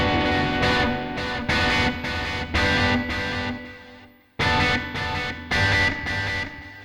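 A distorted electric guitar plays through a Mooer GE150Max amp model with the gain pushed and no pedal, giving loud, gritty strummed chords in rhythmic bursts, a brief pause midway, then more chords.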